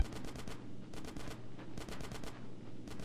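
Repeated bursts of automatic gunfire from the video game Grand Theft Auto San Andreas, loud and close, coming in several rapid clusters separated by short pauses, with no voices.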